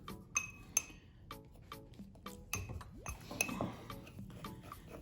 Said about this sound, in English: I'm gonna stir.